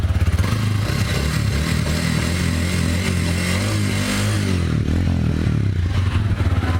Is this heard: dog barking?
no